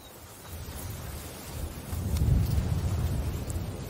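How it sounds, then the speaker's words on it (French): In the game A Plague Tale: Requiem, a thunderstorm approaches with a low, rolling rumble and wind that swell noticeably louder about halfway through. "Et puis, une tempête approche."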